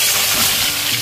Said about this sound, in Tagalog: So magprito na muna tayo.